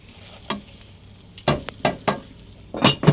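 Pieces of fish frying in a pan at an outdoor camp, with intermittent bursts of sizzle and stirring scrapes rising over a quiet background, several sharp spikes spaced unevenly.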